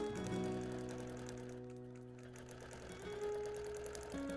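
A longarm quilting machine stitches appliqué with a steady, fast mechanical whir and a rhythmic needle patter, holding an even, moderate level throughout with no talking.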